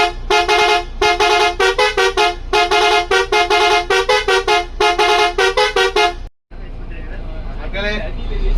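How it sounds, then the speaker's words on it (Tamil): Loud tourist Volvo bus horn blares in a long series of rhythmic musical toots, repeated bursts for about six seconds, then a brief gap and a softer tonal blast with engine rumble underneath. "அந்த ஹாரன் டூரிஸ்ட் பஸ்னா இந்த ஹாரன் தாயா."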